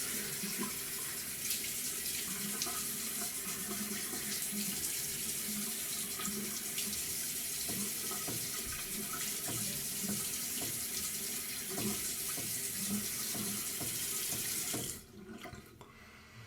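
A tap runs steadily into a sink while something is rinsed under the stream, a close, continuous splashing flow with small shifts in pitch, cut off near the end and followed by quieter dripping.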